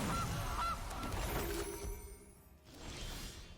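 A goose honks a couple of times in Magic: The Gathering Arena, followed by a glassy shattering whoosh as the card effect plays, fairly faint and without talk.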